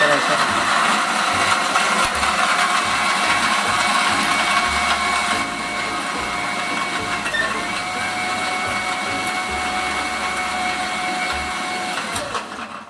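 Blender whirring steadily as it mixes a thick shake of figs, walnuts, almonds, ice cream and Cadbury chocolate, a loud continuous motor drone close by that eases slightly in pitch partway through.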